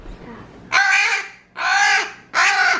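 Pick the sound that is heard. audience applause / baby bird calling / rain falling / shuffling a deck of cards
baby bird calling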